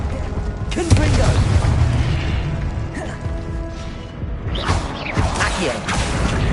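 Blasting spell explosions in Hogwarts Legacy: a loud boom at about one second, then crashing, whooshing magic effects, with another burst of impacts near five seconds over steady game noise.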